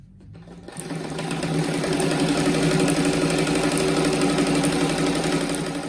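A sewing machine stitches a seam joining patchwork fabric pieces right sides together for a scrap rug, starting after a brief quiet moment and then running steadily and loudly up close for several seconds without pause.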